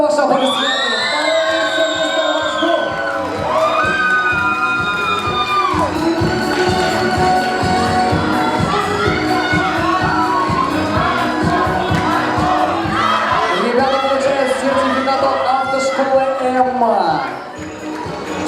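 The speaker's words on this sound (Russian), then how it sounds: "Ваши аплодисменты." At a university Mister contest award ceremony, an audience cheers loudly, with whoops and shouting voices forming a dense, continuous roar close by that fades near the end.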